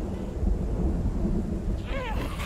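Thunderstorm in the zombie survival game Project Zomboid: a dense, steady wash of heavy rain with low rumbling thunder throughout, loud and continuous, with a brief faint wavering tone near the end.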